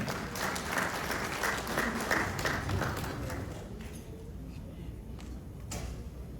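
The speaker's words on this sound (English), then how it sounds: "Give yourselves a round of applause for that." An audience at a community association gathering applauds after a speech, with a dense wash of clapping and scattered cheers filling the hall before gradually thinning out.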